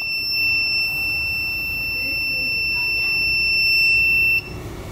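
An Arduino-built home security alarm sounds a steady, piercing electronic buzzer tone after a door is opened, continuing loud and unbroken for several seconds before cutting off abruptly near the end.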